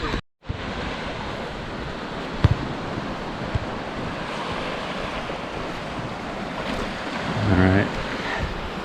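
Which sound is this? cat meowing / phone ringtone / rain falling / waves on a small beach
waves on a small beach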